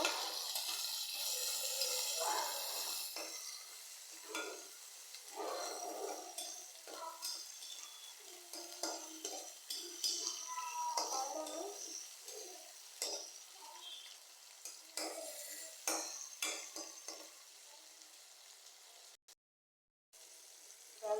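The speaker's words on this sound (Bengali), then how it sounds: "আমি এখন একটু নেড়ে চেড়ে নিব।" Oily fish curry with melting tomato and salt being stirred in a frying pan, a steady soft sizzle with irregular scraping and clicks of the spatula, fairly quiet and close, ending in a brief silent gap.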